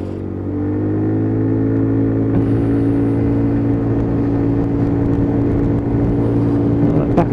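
A Lexmoto Titan motorcycle cruising at around 60 mph on a dual carriageway, its engine droning steadily and loudly with a faint climb in revs, accompanied by rushing wind noise throughout.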